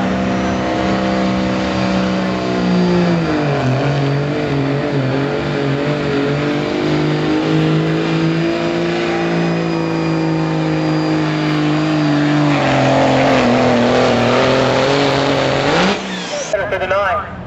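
A diesel truck engine in a 2.5 diesel truck pull in Elizabethtown, Kentucky roars under sustained load, the pitch climbing steadily for about sixteen seconds before cutting off abruptly, with an announcer talking over it.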